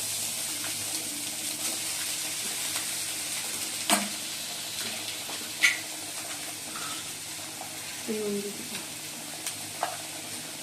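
Maggi noodles tossed and stir-fried with egg and onion in a hot pan, a steady close sizzle running throughout with a few sharp scrape and clatter accents from stirring.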